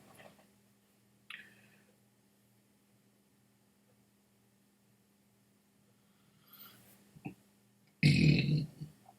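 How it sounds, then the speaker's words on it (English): A loud burp after sipping Pike Creek 21 Canadian whisky finished in European oak casks, a single thick eructation near the end after mostly quiet moments with a few small clicks and a faint stir earlier. "Whiskey makes me burp."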